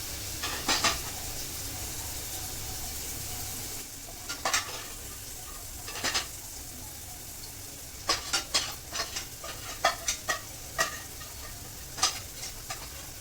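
Onions frying in a pan for vegetable biryani, a faint even sizzle broken by scattered sharp clinks and scrapes of a spoon against the pan, no voices.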